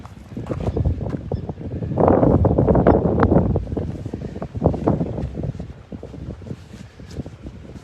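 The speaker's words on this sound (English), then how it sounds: "It's a bit windy" Gusty outdoor wind buffeting the microphone in uneven bursts, swelling loudest midway and then easing, with rough low rumbles and no speech.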